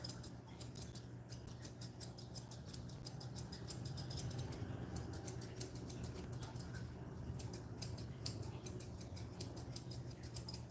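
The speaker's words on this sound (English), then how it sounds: "Some scissors do better on different hair, you know." Grooming scissors snip through a Coton de Tulear dog's coat in rapid, uneven clusters of crisp metallic cuts, close and steady throughout with no talking.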